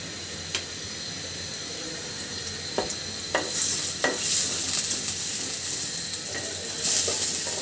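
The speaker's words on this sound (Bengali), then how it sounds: "আমি প্রথমে মশলাটা সুন্দর করে কষিয়ে নিব" Spice paste stir-fried in hot oil for a bitter gourd and eggplant curry, a steady sizzle with a few sharp scrapes and taps of a spatula against the pan, growing louder and hissier in the second half, no voices.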